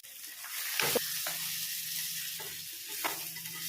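Previously fried prawns are stirred in a pan, giving a soft, low sizzle with a few scraping and clattering strokes of the utensil, one near the start and another toward the end.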